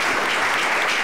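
Steady applause from a studio audience fills the short moment, dense and continuous clapping at a moderate distance with no voices standing out.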